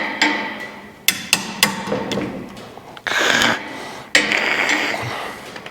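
An air hammer works on rusted-together car front end parts, firing loud percussive bursts: a few sharp hits, then two longer sustained rattling runs, heard up close with no talking.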